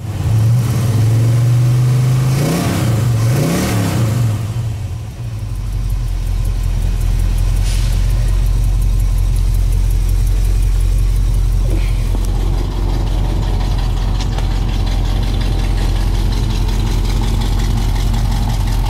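A Chevy engine that had sat for a year or two idles loudly after starting, a brief rev early on settling into a steady low rumble as it warms up, with no talk over it.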